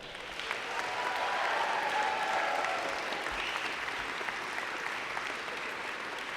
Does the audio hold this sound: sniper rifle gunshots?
no